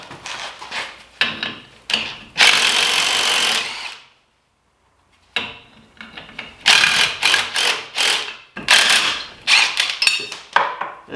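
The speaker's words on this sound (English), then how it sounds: "This DeWalt impact is really impressing me. I can't believe it broke those lug nuts free." A DeWalt impact wrench breaks rusted lug nuts free: loud, close bursts of rapid hammering and whirring, two long runs separated by a silent pause, then a series of short repeated rattling bursts.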